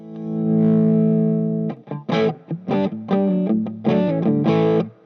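Electric guitar played through the drive effect of a Divitone Jam 20 portable smart amp: a sustained distorted chord rings out, followed by several choppy, rhythmic overdriven strums and short riffs, close and loud.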